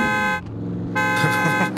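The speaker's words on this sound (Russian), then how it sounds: "О, машина! Машина едет." A car drives by in the survival game SCUM, a steady tonal engine drone with dense harmonics that dips briefly then swells again as it passes, fairly close and loud, with no talk over it.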